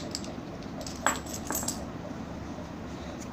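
Indian 5 rupee coins being handled, with one bright metallic clink of a coin dropping or striking, then a few softer taps over a quiet room background.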